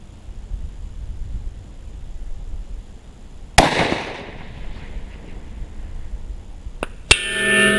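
A single sharp rifle report from a HOWA 1500 in .243 with an XLR chassis cracks loudly at long-range shooting, followed by a decaying rumble, then a faint click and a second abrupt bang near the end.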